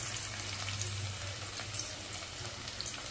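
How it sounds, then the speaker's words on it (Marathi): Chopped garlic frying in hot oil with bedgi chilli pieces for a lasuni methi tempering, a steady even sizzle and crackle close up, with no talk over it. "लसूण चांगला असा सोनेरी रंगावरती तळून घ्यायचा आहे आपल्याला तेलामध्ये"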